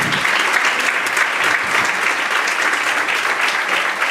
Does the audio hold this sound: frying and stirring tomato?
no